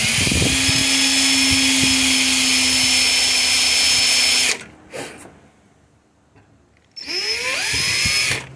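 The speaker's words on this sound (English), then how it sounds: "Drill it nice and easy." A power drill whirs steadily at close range for several seconds, drilling out a broken screw, stops, then after a short quiet pause starts whirring again.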